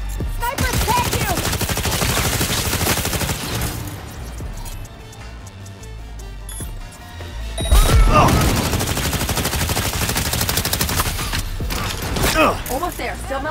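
Gunfire and sniper shots in Cyberpunk 2077 combat, with dense volleys and sharp cracks over a loud mix of game effects and music.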